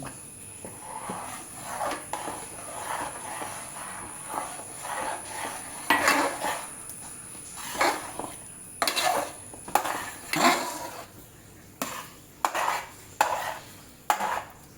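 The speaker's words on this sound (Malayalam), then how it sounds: "വിടാതെ ഇളക്കിക്കൊണ്ടേയിരിക്കണം" Kinnathappam batter stirred in a pan with ghee and milk: repeated scraping and clinking of a spoon against the pan in irregular bursts, close and moderately loud, with no talking.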